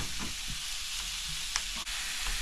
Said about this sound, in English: now we're gonna sear the steak. The frying pan is super hot.